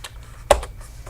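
A single sharp computer key press clicks once, brief and close, against a quiet room background with faint low hum.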